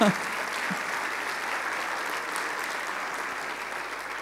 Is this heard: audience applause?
yes